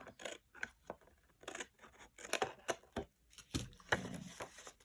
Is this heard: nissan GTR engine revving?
no